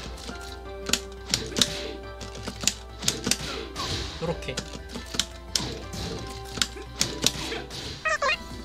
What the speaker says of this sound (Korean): 요 버튼 리듬감 내가 지금 캠이 없어서 보여줄 수가 없는데 소리만 들으십시오